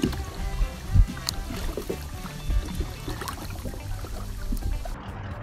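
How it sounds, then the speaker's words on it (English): A kayak paddle dips and pulls through water, giving soft splashes and trickles with a few clearer strokes spaced irregularly, close and fairly quiet. "Kayak."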